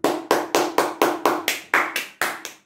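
One person claps about a dozen times in a steady rhythm, close and crisp, slowing slightly near the end, with no other sound.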